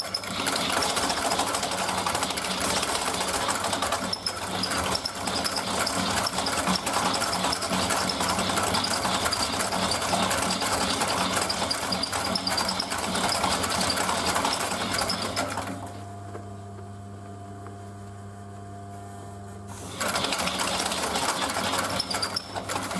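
A sewing machine runs steadily through a canvas and leather bag, a loud continuous mechanical whir and chatter that drops to a low motor hum for a few seconds before the stitching resumes, close up.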